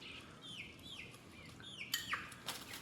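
Chickens making soft, high chirping calls and clucks, repeated in short bursts at moderate distance, with a couple of louder squawks near the end.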